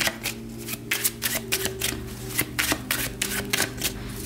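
A deck of tarot cards is shuffled up close, with quick riffling bursts and soft slapping flicks repeating in an uneven rhythm for a few seconds, alone with no voices.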